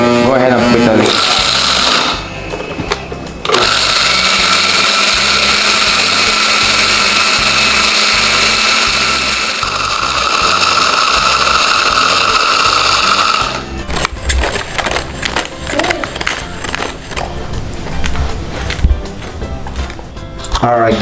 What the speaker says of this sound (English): Alright, Sage, go ahead and press the grinder and go ahead and grind it into powder.